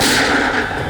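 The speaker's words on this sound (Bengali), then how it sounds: "মা, এটা কি গুলি চালানোর আওয়াজ?" A loud, dense gunshot blast from a CID crime television drama fills the moment close and harsh, with no speech over it.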